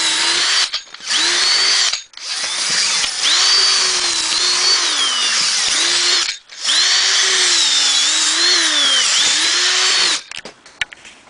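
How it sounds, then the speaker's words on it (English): A power drill bores out the wood around a cut-off bolt during a Forest River travel trailer floor repair. It runs loud and close in three long whining bursts with short pauses between them. "So I'm going to drill that out right now."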